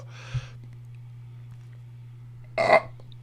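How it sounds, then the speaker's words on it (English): Two burps after sipping a tart, funky beer: a short one first, then a louder, longer belch about two seconds later, over a steady low electrical hum in a quiet room. "I should put safety tape on that burp."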